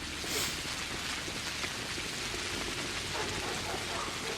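Steady rain falls in the video game Pathologic HD, an even, dense hiss of drops that continues unbroken and fairly loud throughout.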